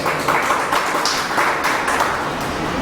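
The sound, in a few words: audience applause at a poetry gathering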